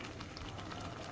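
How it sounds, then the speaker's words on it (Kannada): Dal khichdi bubbling steadily in a pot on the stove, a soft continuous simmering hiss with faint popping, heard close and alone for a brief moment. "ಇದು ಚೆನ್ನಾಗಿ ಕುದಿಯಕತ್ತೈತಿ."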